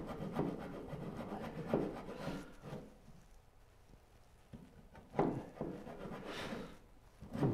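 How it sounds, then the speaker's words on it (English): Steel chisel paring waste wood from a Moxon vise workpiece, heard as close, scraping rubs in uneven bursts with quieter gaps between strokes. "we're trying to get as much relief cut as possible so we can chisel as much of this junk out as possible"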